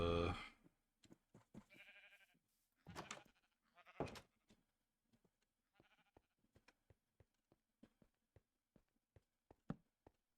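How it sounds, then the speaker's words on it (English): Sheep in the Minecraft video game bleat several times in short, clear calls, followed by a long run of soft, regular clicking steps or taps that sound close. "Gray sheep, black sheep, white sheep."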